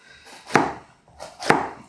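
A green pepper being chopped on a cutting board, two distinct knife strikes about a second apart, close and crisp with a short scrape around each.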